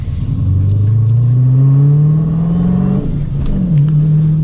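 A first-generation Dodge Challenger R/T engine accelerates in second gear, a loud close rumbling drone rising steadily in pitch for about three seconds before dipping at a shift and settling again.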